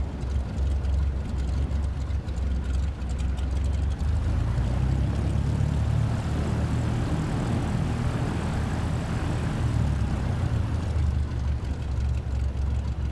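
Aircraft taxiing in Microsoft Flight Simulator 2024's career mode: a steady, continuous engine and propeller drone holds at an even level throughout with low rumble, and no voices.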